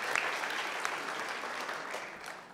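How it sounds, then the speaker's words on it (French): An audience at a Mouvement Radical political gathering applauds a re-elected co-president with steady, dense clapping of a sizeable crowd, sustained and even throughout. "Oui, vous pouvez l'applaudir."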